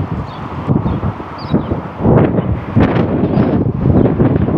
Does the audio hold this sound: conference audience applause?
no